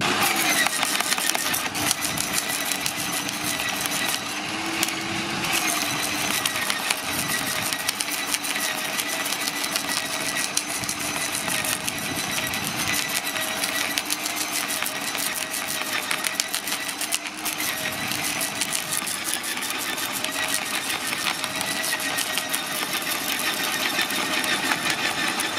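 A Parkside PWH 2800 electric garden shredder chews through a 25 mm thick piece of wood, a steady loud motor whine with grinding and crackling running unbroken throughout.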